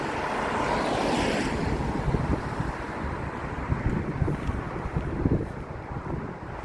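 Heavy wind buffeting a microphone on a coastal neighbourhood walk in Plymouth, a loud continuous low rumble with gusty swells throughout and no voices.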